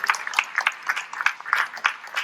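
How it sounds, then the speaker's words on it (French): Scattered applause from a modest audience at a public town meeting, sharp individual claps arriving in uneven bursts, fairly close and fading between clusters, with no voices over it. "je vous propose de les applaudir quand même"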